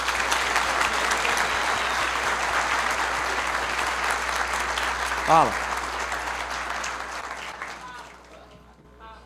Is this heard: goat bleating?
no